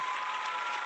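Canned applause played from a sound effects board, a short, soft, even wash of clapping with no voices over it.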